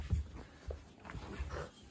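A Kooikerhondje dog whimpers and fusses indoors in soft, short, faint whines repeated several times over a couple of seconds.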